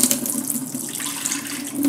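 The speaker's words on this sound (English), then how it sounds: "Dump out the water." A steady rush of water pouring out, close and fairly loud, continuous for a couple of seconds with no voices.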